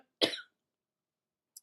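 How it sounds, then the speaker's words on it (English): A single sharp cough, short and fairly close, followed by silence and a tiny click. "I should probably try and mute while I cough"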